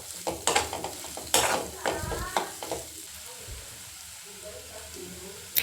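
A spoon scrapes and stirs green egg rice in a pan with a light sizzle, the strokes loud and uneven at first, then fading to a soft hiss.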